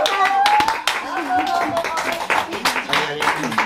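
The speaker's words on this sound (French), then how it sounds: "Venez vous faire applaudir, vous l'avez mérité." An audience applauds children at a French community writing event in Orange, with sharp, uneven hand claps and cheering continuing throughout, mixed with voices calling out over the clapping.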